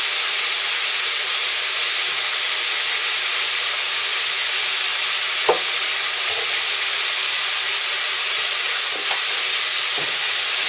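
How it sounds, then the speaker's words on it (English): Mince, onions and peppers sizzling in a pan on high heat under a constant loud hiss of frying, with a few faint stirring knocks and scrapes. "go ahead and give your mince, onions, and peppers a stir. Again, this is on high heat."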